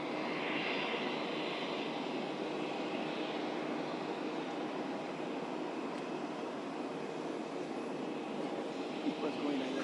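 Steady, broad jet engine roar from a plane at an airport as it readies to depart from near Mar-a-Lago, holding a constant loud whine throughout, with faint voices beneath it.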